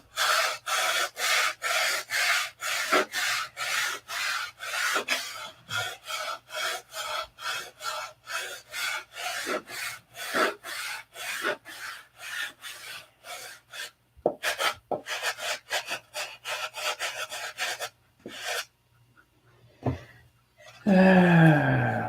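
A Durablock sanding block is worked by hand over wood in fast, steady rasping strokes. Later the strokes turn irregular with brief pauses, and a different noise closes the sequence.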